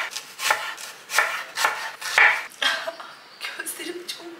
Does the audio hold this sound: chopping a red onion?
yes